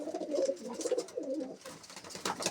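A pigeon coos in several soft, rolling phrases close by, followed by light rustling and fluttering.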